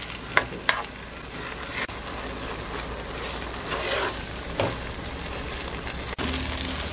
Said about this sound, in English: stir it well and cook it until you don't see any more coconut milk